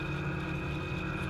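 A classic Triumph race car at Willow Springs, heard from inside as its engine holds a steady loud drone at speed, with no pauses or shifts across the moment.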